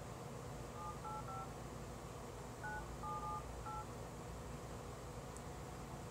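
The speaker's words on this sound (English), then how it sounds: "let me dial a number here to show you guys that it's off" Telephone keypad dialing tones from a Virgin Mobile phone whose service has been shut off, a series of short beeps in small clusters over a steady hiss, fairly faint.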